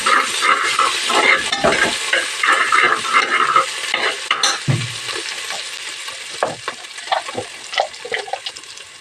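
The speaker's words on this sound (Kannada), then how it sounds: "ಈಗ ಜಜ್ಜಿರೋ ಹಸಿರು ಮೆಣಸಿನ್ಕಾಯಿ ಮತ್ತು ಬೆಳ್ಳುಳ್ಳಿ ಶುಂಠಿ ಈ ಪೇಸ್ಟ್ನ ಎಣ್ಣೆಗೆ ಹಾಕ್ಕೊಂಡು ಇವಾಗ ಫ್ರೈ" Crushed green chilli, garlic and ginger paste frying in oil for egg biryani, a loud, close sizzle with stirring scrapes that eases off partway into a quieter spatter with scattered clinks.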